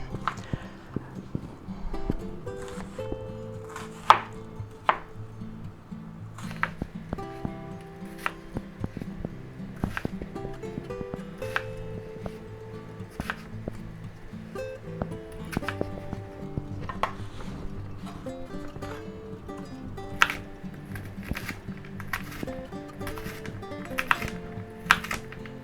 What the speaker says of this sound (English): Okay, let's chop this up.